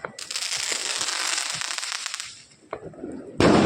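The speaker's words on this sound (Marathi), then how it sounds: "आणि काही उत्साही होतकरू लोक आहेत जे अजूनही फटाके फोडण्याचा प्रयत्न करत आहेत" Diwali firecrackers go off in a housing society, a burst of dense crackling pops followed by a lull and then a sharp loud bang at the end.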